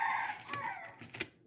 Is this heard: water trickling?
no